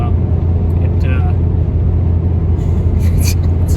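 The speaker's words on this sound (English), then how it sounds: "We're driving." A car cruising down a highway in Iowa on a road trip, its steady low road rumble and engine drone continuous throughout, with faint hiss rising toward the end and no one talking.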